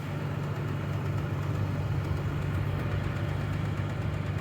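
A Toyota Tacoma TRD Off-Road crawls up a sand hill in crawl control at maximum crawl speed with the rear differential locked. Its engine gives a steady, loud, low drone with a faint rhythmic knock, and no one speaks.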